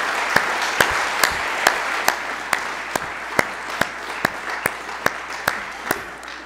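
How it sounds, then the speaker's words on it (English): An audience at a summit address claps in a slow, even rhythm, single sharp claps spaced about half a second apart over a steady crowd hubbub, moderately close and without speech. "So please give yourself a round of applause."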